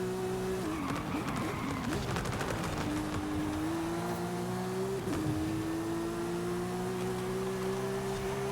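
A Ferrari engine in a video game holds a loud, steady high drone with a brief pitch dip, overlaid by rapid crackling bursts like gunfire in the game.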